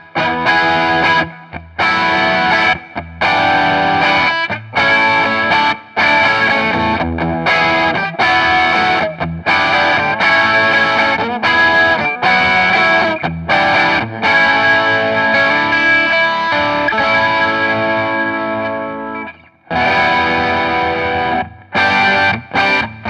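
Electric guitar, a budget WestCreek Double Trouble double-neck, played with heavy overdrive distortion, loud chugging chords and riffs in bursts separated by brief silences, no voices.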